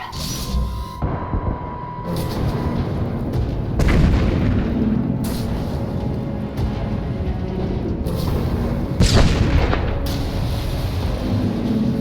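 Failsafe emitters fire in a sci-fi video game, setting off a run of heavy, rumbling booms and blasts that keep rolling over one another at close range, with a few sharper bursts standing out.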